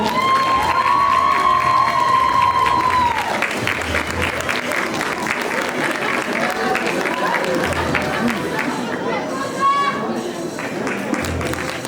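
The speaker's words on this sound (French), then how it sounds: "vous pouvez l'accueillir sous un tonnerre d'applaudissements" A crowd at a cosplay contest claps and cheers loudly for the runner-up, a steady roar of applause mixed with shouts and whoops, with crowd chatter and voices running through it.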